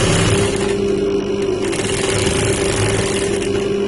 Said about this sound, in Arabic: إذا غادي نشد ونخيط بهاد الطريقة هادي.